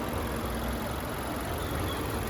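The engine of a 2016 Mazda 3 runs evenly with a steady, continuous hum and rumble. It is moderately loud throughout, with no speech over it.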